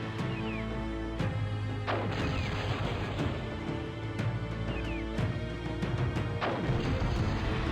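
Repeated booming cannon shots in the video game Cossacks, several sharp blasts a second or two apart over a constant droning background.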